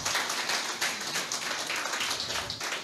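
Applause from a church congregation during a Filipino worship sermon: dense, steady clapping that fills the whole moment with scattered sharper claps and no speech over it.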